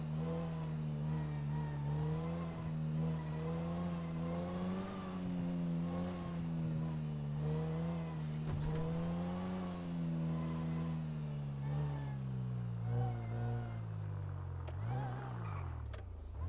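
Car driving through the city in GTA, a steady engine drone with shifting pitch as it accelerates and slows, close and continuous for the whole stretch, with the revs dropping low near the end.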